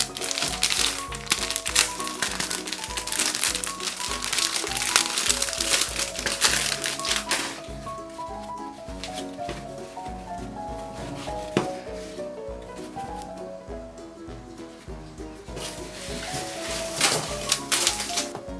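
Exhaust fan filter paper crinkling and rustling as it is handled, with steady tonal music playing underneath throughout.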